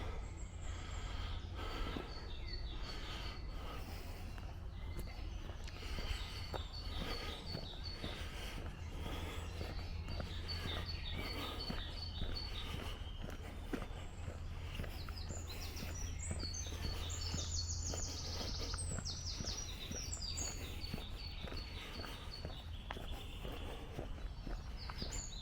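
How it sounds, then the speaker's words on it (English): Birds sing and chirp in repeated trilling phrases over a steady low rumble, a continuous outdoor mix with no talking, on a wet winter hilltop walk on Chosen Hill. "The wildlife is amazing up here, and it's wonderful to hear the bird song"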